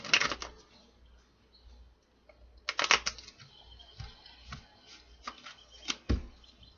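Tarot cards from a Witch's Tarot deck are shuffled in quick, close bursts of crisp riffling and tapping, with brief pauses between flurries and no talking.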